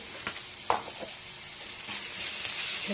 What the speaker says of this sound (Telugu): పచ్చి వాసన పోయేంత వరకు ఫ్రై చేసుకోవాలి